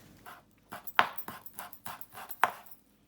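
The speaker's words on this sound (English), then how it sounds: "I've got 1 sprig of parsley, which I'm just going to be chopping up fine" Rhythmic knife chops on a cutting board, finely chopping a sprig of parsley, about a dozen quick, close taps in an even pattern, a couple landing harder than the rest.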